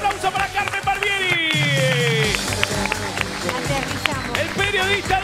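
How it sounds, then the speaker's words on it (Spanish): Studio audience applauding Carmen Barbieri on a televised game show, loud and steady under an announcer's voice, with sustained music running beneath the clapping. "Fuerte el aplauso para Carmen Barbieri"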